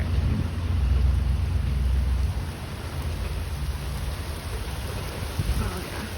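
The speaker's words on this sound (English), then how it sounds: "Oh, here comes the rain." Rain arriving in a storm with tornado activity nearby, a heavy continuous roar mixed with low wind rumble, louder at first and then settling to a steady hiss.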